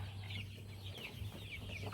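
Seamanok-line chickens cluck softly in short, scattered bursts over a steady low hum, with no voices.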